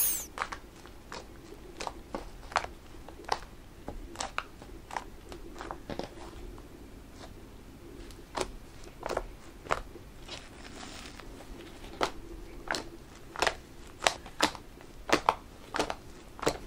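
Homemade fluffy slime is handled and squeezed up close, giving a run of sharp, irregular crackling and popping clicks over a quiet background, with no talk.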